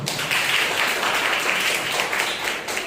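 A church congregation at a Sunday morning service breaks into loud, sustained applause, a dense wash of many hands clapping together that holds steady throughout.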